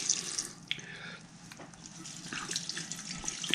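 Aged tap water, drawn days earlier, poured from a watering can onto house plants indoors in winter, a steady close trickle and splash with a few brief drips and shifts in the flow.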